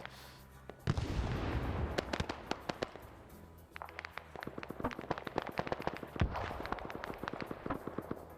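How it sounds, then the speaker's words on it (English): Anti-tank weapons fire in a Vietnam War video game battle, with a dense, crackling barrage of sharp bangs and pops, some close and loud, continuing almost without a break. "Hearing the AT fire as well"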